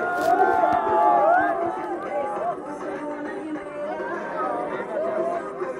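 Dense crowd chatter at a busy outdoor gathering with dancing nearby, many overlapping voices blending into a steady, lively babble at moderate distance.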